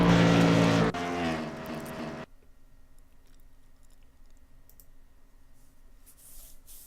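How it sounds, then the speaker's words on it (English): Gen 6 stock race car engine running on a track during practice, a loud harmonic roar for the first two seconds that cuts off abruptly, leaving faint distant engine hum and track ambience. "The Gen 6, pretty powerful car for running on this track. A lot of horsepower on this."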